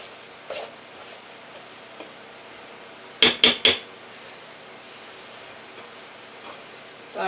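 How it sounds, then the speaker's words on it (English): A fork working butter and egg into chocolate chip oatmeal walnut cookie dough in a bowl: mostly quiet soft mixing, broken midway by three quick, bright metallic clinks close together. "So I'm just taking the fork and working it through the dough so that I can incorporate the butter and the egg into all the dough."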